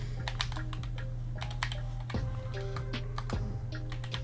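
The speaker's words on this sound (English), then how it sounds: "My typing sucks." Rapid, uneven typing on a computer keyboard, close and clear, with irregular clusters of key clicks over a steady hum of several fans running in the background.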